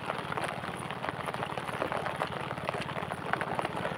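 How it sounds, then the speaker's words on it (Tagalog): Rain falling outdoors during a fishing trip, a faint and even hiss of drops that carries on steadily without a pause. "Matagal-tagal ang ulan na ito mga idol."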